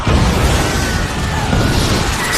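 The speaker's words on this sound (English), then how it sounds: "the real life explosion bursts through the screen" A huge, sustained roaring explosion bursts through a movie theater screen in the film The Final Destination (2009), a dense, loud rumble filling the scene without pause.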